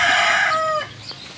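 A hen that has just laid an egg lets out a loud, close, drawn-out cackle that trails off after under a second, leaving quiet background.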